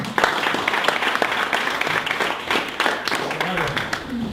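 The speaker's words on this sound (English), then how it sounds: "let's give a warm round of applause to Mr. David Murray." An audience claps and applauds continuously, a dense crowd sound of many hands, with a voice faintly audible beneath.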